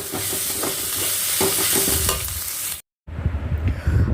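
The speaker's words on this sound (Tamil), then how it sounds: "வெங்காயம் குயிக்காக நமக்கு வதங்கி வந்துடும்" Onions, ginger and garlic sauté in a pan with a loud, close sizzle and repeated stirring clinks, briefly cutting out before the frying resumes.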